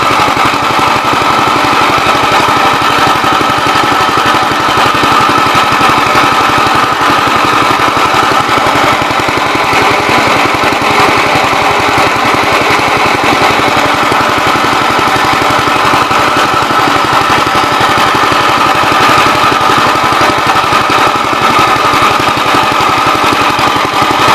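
The pump on a Gravely 20-gallon sprayer runs steadily and close, a loud, uniform motorized drone with rapid buzzing vibration for the whole stretch, with no talk.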